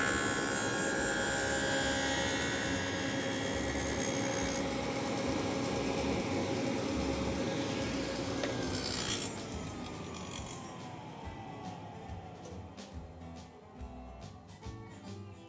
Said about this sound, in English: I've got the Forest Dado King set up to do a 1/2 inch by 1/2 inch dado in some walnut stock